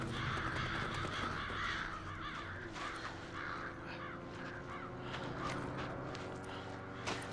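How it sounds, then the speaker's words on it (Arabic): Crows caw several times from a distance within Resident Evil 5 gameplay, set against a constant dense game soundtrack and ambient rumble, with occasional footstep-like clopping. "غربان، غربان السلام."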